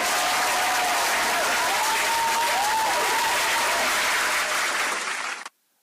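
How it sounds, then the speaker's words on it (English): A studio audience at a football preview show gives a round of applause, loud steady clapping with a faint tonal sound running underneath, cut off abruptly after about five seconds. "Another round of applause"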